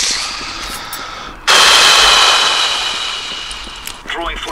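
Gunfire in Counter-Strike: Global Offensive, quieter shots at first, then a loud sustained burst of automatic fire that slowly fades, with a further crack near the end.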